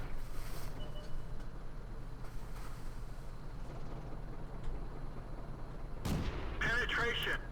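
A T-80 tank's main gun in World of Tanks fires a sharp, loud report late in the clip, followed by a brief crackling tail, over a steady engine rumble.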